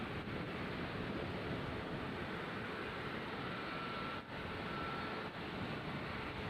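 Electric fan blowing straight into the microphone, a steady broadband roar like a distant propeller aircraft, with brief dips where the airflow falters.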